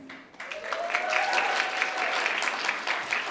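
Audience applause for past presidents at the Laguna Chapter NCL 2018 debutante ball: a sustained, moderately loud crowd of clapping hands, with a faint tone rising at the start.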